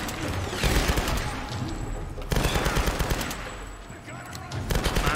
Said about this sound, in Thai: ถ้างั้นก็ต้องใช้ปืนกลละ